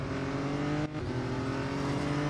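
Engine of a Ferrari 499P hybrid race car in Real Racing 3, a loud sustained drone at steady revs with a brief dip and shift in pitch near the middle, then holding on again.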